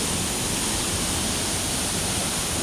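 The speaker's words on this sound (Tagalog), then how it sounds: "Ayan, falls." Katibawasan waterfall in Camiguin roaring as a steady, dense broadband rush of falling water, loud and close, with no voices.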